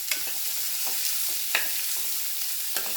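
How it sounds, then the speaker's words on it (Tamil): Onions sizzle steadily in a hot pan with several scraping stirs at irregular intervals, close and moderately loud, no voices. "இதெல்லாம் நல்லா வதக்கிக்கணும்."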